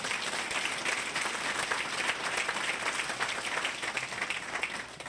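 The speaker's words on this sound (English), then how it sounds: "Big round of applause to all of the folks that are nominated" Sustained applause from a Chamber of Commerce awards audience honoring nominees, dense even clapping across the hall, steady and unbroken throughout.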